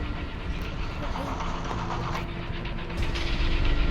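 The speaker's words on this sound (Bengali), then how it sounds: "এত জোরে ট্রেন চলতেছে" A speeding train in the video game Poppy Playtime Chapter 2, a steady rumbling rush of rail noise that swells louder toward the end, with someone talking over it.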